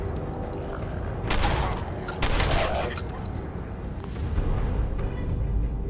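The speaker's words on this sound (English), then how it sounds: "The reason he's blowing them away is the shotgun." Shotgun blasts against feral ghouls in Fallout 4, two or three loud booming shots in quick succession over rumbling game ambience, with no voices.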